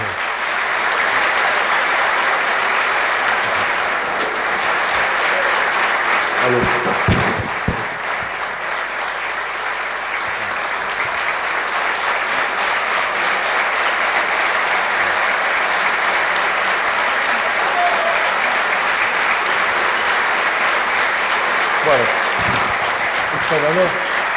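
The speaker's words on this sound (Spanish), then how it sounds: "Muchas gracias por el aplauso." A large audience applauds to welcome a speaker to the stage at a talk, steady and loud continuous clapping filling the room for the full length with no voices standing out.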